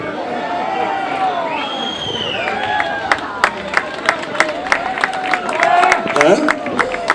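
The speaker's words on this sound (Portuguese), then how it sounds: "Eu pedi uma salva de palmas para as minhas vaquinhas" Scattered claps build into light applause amid a chattering crowd at a popular festival, with voices talking and calling over the uneven clapping.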